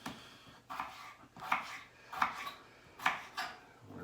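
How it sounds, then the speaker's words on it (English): A knife chops through potatoes on a cutting board for home fries, five distinct thuds in an uneven rhythm, close and fairly quiet, with no talking. "We're going to just cut through the last few of these"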